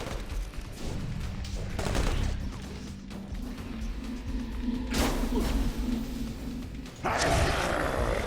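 Mini-sentry guns in Marvel Ultimate Alliance 2 fire in rapid bursts amid crashing combat hits, loud and dense, with sharp impacts punctuating the clip.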